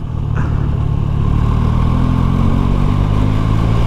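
Triumph Trident 660 three-cylinder motorcycle engine lugging at low speed in sixth gear, a steady, loud, low rumble that holds evenly throughout with no voices.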